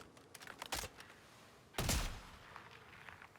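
Two Jakobs sniper rifle shots go off in Borderlands 4, each a sharp, loud blast with a short tail, the second heavier, followed by faint mechanical clicks.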